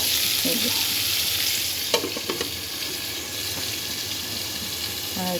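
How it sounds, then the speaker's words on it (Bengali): Food fries steadily in a pan with a continuous close sizzle and a few stirring scrapes and clinks, likely a home curry kitchen with chicken, tilapia and pointed gourd on a rainy day; no talk. "ভাজা হচ্ছে"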